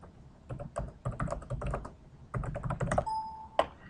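Keys clatter on a computer keyboard in two quick bursts of typing, close and clear, followed by a short pause and a single tone near the end.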